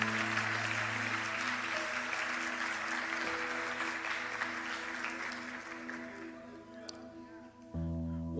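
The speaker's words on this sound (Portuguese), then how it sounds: "Dê uma salva de palmas a Jesus." Congregation applauding in a church service, steady clapping over a sustained organ or keyboard chord that gradually tapers off before the music shifts near the end.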